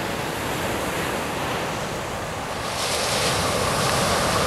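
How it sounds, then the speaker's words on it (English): Pacific Ocean surf rolling onto the shore at Brookings, Oregon: a steady, loud wash of breaking waves that swells louder toward the end, with wind buffeting the microphone. "that's the Pacific Ocean rolling in"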